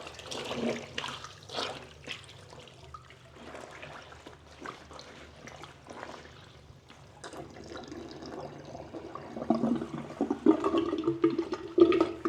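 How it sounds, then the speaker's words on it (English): Clothes being hand-washed in a hotel sink, sloshing and swishing through water in irregular bursts that grow busier and louder toward the end, close by and with no talking. "I'm just going to keep agitating them a little bit, and then I will let them soak for probably like 10 minutes."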